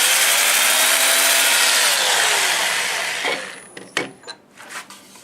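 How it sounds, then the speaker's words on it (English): Steady broadband abrasive hand sanding inside a cherry plum wooden bowl for about three seconds, then it stops and a few sharp knocks and scrapes follow. "let me just see if I can get a little bit sanded inside of here"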